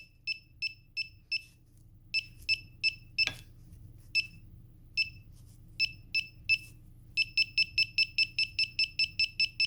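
Loud, sharp electronic beeps from a budget metal detecting pinpointer close by, first in irregular short groups, then a fast steady run of repeated chirps at the end.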